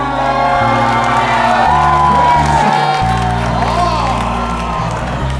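Studio audience at a live dating show cheering and whooping for a contestant named Sarah, loud sustained shouts and whistles from a crowd with scattered clapping, a host's voice over the top.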